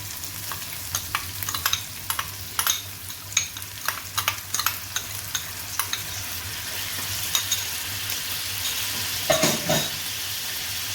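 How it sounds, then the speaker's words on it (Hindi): Minced keema with yogurt fries on a pan while a spoon stirs it, producing a low steady sizzle with frequent sharp scrapes and knocks throughout, close and clear with no speech. "इसको अच्छी तरह से मिक्स करूँगी और भून लूँगी"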